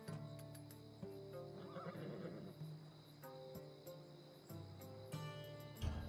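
A horse in the video game Assassin's Creed Odyssey whinnies in a long, shaky neigh, over a quiet bed of game ambience and soft thuds.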